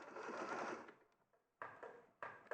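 A domestic sewing machine stitches across the bottom of a fabric piece: one long steady run of stitching that slows and stops, then two short bursts after a pause.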